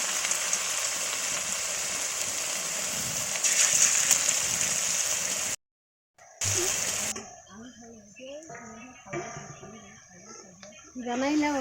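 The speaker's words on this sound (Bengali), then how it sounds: "ও তাহলে মা বড়া ভাজতে চেয়েছিল" Egg fritters frying in a village kitchen give a steady, close, crackling sizzle for several seconds before it cuts out and people talk over fainter background noise.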